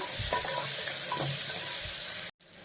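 Onions frying in a pan for a sprouts and vegetable kootu, a steady close sizzle with faint stirring scrapes that cuts off abruptly near the end.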